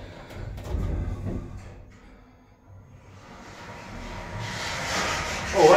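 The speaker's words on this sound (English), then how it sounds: "Doors closing." Doors of a 2022 KONE KSS280 Ecodisc lift at a library slide shut with a low rumbling rub, a thump early on, then rising mechanical noise ending in a short squeak.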